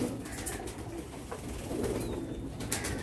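A pigeon coos softly nearby in a room, low repeated murmuring notes under faint background noise and a few light clicks.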